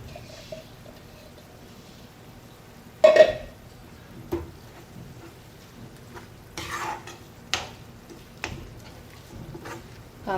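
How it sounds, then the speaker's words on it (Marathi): Chopped onion stirred in a pan while making Schezwan chutney, with scattered utensil scrapes and clinks against the pan and a louder clatter near the start, over a quiet background. "कांदा पण यात थोडासा परतवून घ्यायचा आहे मस्त."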